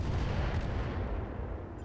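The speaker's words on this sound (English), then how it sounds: "Heavy rotary rifle. You got another shot off?" A heavy rotary rifle fires in a mech combat video game, a loud low boom with a rumbling tail that decays over about two seconds, with no talk over it.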